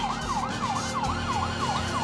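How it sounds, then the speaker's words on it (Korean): In the video game GTA5, an ambulance-style siren yelps in a fast, regular rising-and-falling cycle, loud and close, over a steady engine and road drone, with no speech. "사이렌 소리가 들린다고 멈출까 싶은데"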